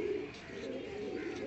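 Desi high flyer pigeons cooing softly in a short, steady murmur, faint and close, with no talking.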